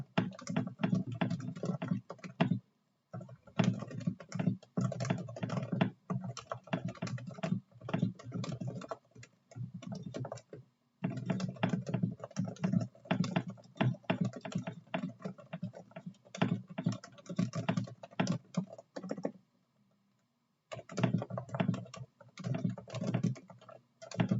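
Rapid clacking of a modded Realforce mechanical keyboard being typed on in bursts, with a few short pauses between runs of keystrokes.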